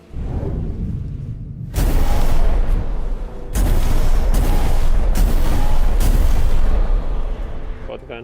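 A shotgun fires in the video game Tainted Grail: Fall of Avalon, several loud, booming blasts close together that fill the clip with dense, rumbling noise.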